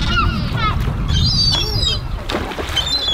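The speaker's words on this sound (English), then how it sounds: "Look, they're all seagulls" Seagulls call over a river at Dover, several sharp, wavering cries rising and falling from nearby birds over a low rumble of wind and water.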